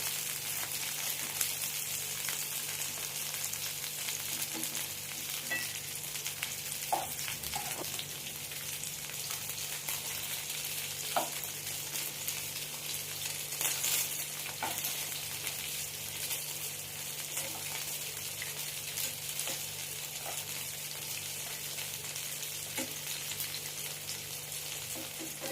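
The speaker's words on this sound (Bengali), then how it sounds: "আমি এটা উল্টো পাল্টা করে 10 মিনিট ধরে ভালো করে ভেজে নেব চিকেনটা" Chicken pieces frying in a pan for butter garlic chicken, a continuous close sizzle and crackle with occasional pops, steady throughout and free of talk.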